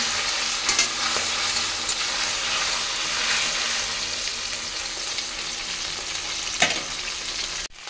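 Pieces of fish fat frying in hot oil in a wok, a steady loud broadband sizzle with a few sharper crackles and pops, continuous throughout and cut off abruptly at the end.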